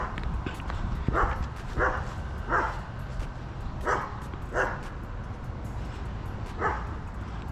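Dog barking in an Indianapolis neighborhood street, about seven separate barks spaced irregularly, moderately near over steady outdoor traffic and wind noise.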